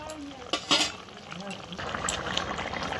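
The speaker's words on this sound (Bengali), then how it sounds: "মাছটা দিয়ে দিলাম ঝোলের মধ্যে আর কিছুক্ষণ জাল হবে ঝোলটা" Fish curry simmers in a pot with a low bubbling, liquid sizzle and a few light utensil clinks, while a voice speaks over it.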